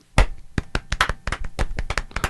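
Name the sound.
golf clap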